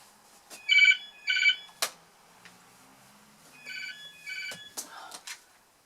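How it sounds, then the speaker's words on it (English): A landline telephone rings in two double bursts of electronic trilling, separated by a pause, with small clicks and handling noises between the rings in a quiet room. "You switch your mobiles off and then the landline goes."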